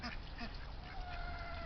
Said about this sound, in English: quiet down the birds. They're having a little bit of a fit about something.